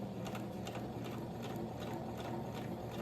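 Sewing machine stitching a shirt seam while the fabric is fed slowly through, a steady close whirring hum with a fast, even mechanical clatter running throughout.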